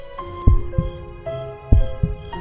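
Heartbeat sound effect set against a sustained eerie tonal drone: two paired lub-dub thumps, deep and close, spaced about a second apart.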